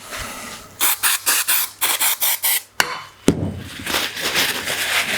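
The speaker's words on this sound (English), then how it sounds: "So we'll get our brake cleaner again." Brake cleaner is sprayed onto Ferguson 23c tractor engine parts on a workbench in a series of short, sharp hissing bursts, about eight in quick rhythm, then a couple of clanks and a longer spray with some rubbing.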